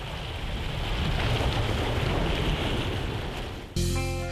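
Rough ocean waves surge against the shore at a Norwegian coastal bridge as a broad, steady wash of surf and wind noise, loud and continuous, before music abruptly takes over near the end.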